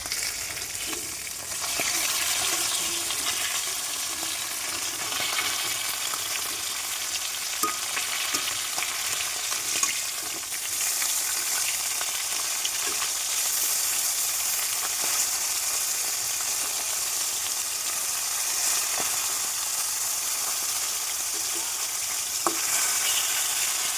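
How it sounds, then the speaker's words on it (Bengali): Fish frying in a pan, a long steady crackling sizzle with bright hiss and occasional small pops and knocks, close and continuous without voices. "মাছ ভাজাটা কিন্তু উল্টে দিয়েছি"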